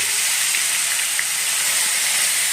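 Koi fish frying in hot oil, giving a constant, even hiss of sizzling fat with no breaks, close and moderately loud.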